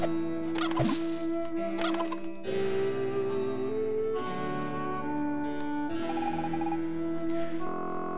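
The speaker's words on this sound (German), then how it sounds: "Meine Hühner sind ausgebüxt und streunen jetzt in der ganzen Stadt herum" A series of synthetic chicken calls from the video game Evoland 2, clucking and gobbling in short successive bursts, fairly loud and with no talking.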